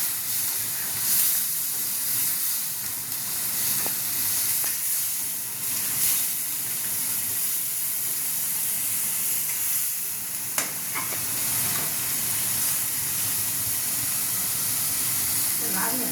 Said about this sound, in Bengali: মশলাটা যতক্ষণ না ভাজা হয় ততক্ষণ মা নাড়ছে।